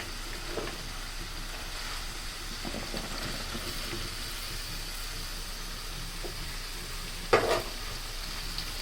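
Snake gourd goes into dried fish frying in hot oil in a Bangladeshi kitchen, bringing a steady close sizzle throughout, with a brief louder crackle near the end.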